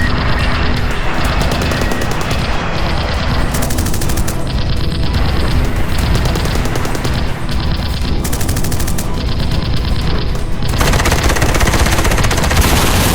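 Sustained bursts of rapid machine gun fire from Japanese fighters attacking bombers, loud and continuous with heavy engine-like rumble underneath, varying in intensity throughout.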